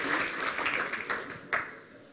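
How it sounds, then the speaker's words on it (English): Steady crowd applause, a dense wash of many hands clapping throughout, with a sharper burst near the end. "give yourselves a round of applause"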